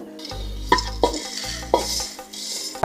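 Chana dal and urad dal being dry-roasted in a pan for homemade sambar powder, with a soft rattling stir and sharp metallic scrapes and clinks of a spoon against the pan at irregular intervals, close and without talk.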